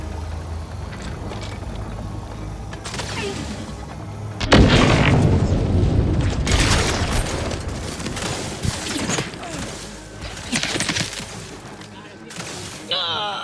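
A grenade goes off in The Outer Worlds 2, a heavy boom bursting loud and close out of a busy combat mix, followed by scattered gunfire and cracking impacts as the fighting carries on.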